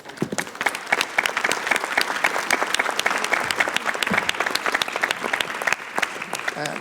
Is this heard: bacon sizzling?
no